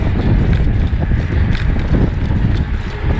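Strong wind buffets the microphone during a morning bike ride, a loud continuous rumbling roar with no pauses and no talk.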